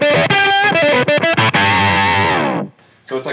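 Electric guitar through a Pigtronix Disnortion pedal set to octave with overdrive rings out loud and close, a quick run of picked notes ending in a sustained chord that fades out, followed by a brief extra strum.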